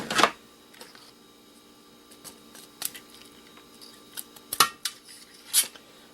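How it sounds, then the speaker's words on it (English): Metal snips cut through the cables of a disassembled electric kettle, giving sharp, close clicks and crunches scattered irregularly across a quiet background. "A few more snips and we'll be done."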